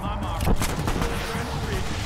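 Gunfire rings out in the video game Fallout: New Vegas played with The Frontier mod, a quick run of loud shots with a voice mixed in.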